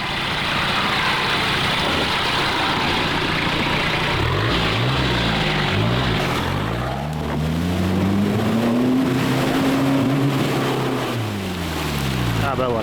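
Jeep engine straining in two-wheel drive off-road, a loud continuous drone with revs rising and falling and a climbing whine as it labours, rumbling close throughout.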